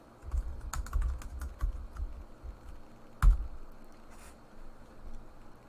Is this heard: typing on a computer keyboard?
yes